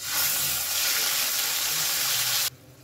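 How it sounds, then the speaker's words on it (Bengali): Ginger, green chilli and tomato paste hit hot oil in a vegetarian paneer dish, producing a loud, steady hiss of sizzling that holds for a couple of seconds and then cuts off abruptly. "আদা, কাঁচা লঙ্কা আর টমেটোর পেস্টটা আমি এবার তেলের ওপরে দিয়ে দেব।"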